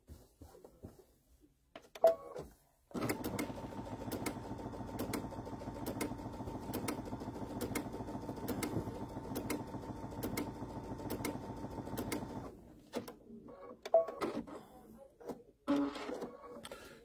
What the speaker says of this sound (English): So then I can go over here, I can do another basting stitch.